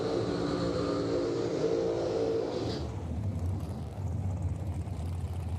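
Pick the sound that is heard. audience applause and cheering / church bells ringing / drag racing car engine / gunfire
drag racing car engine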